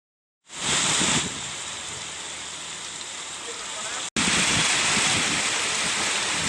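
Heavy rain pours down in a dense, steady hiss that starts abruptly, holds loud and even, cuts out for an instant and resumes just as strongly.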